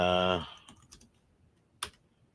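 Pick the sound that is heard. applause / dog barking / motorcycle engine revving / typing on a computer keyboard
typing on a computer keyboard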